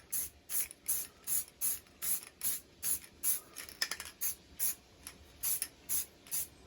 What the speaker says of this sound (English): I'm just going to give it some light coats of primer.